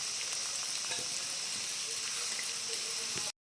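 Demo greens (garden greens) and potato frying in a pan, a steady close, bright sizzle with faint stirring scrapes throughout, cutting off abruptly at the very end.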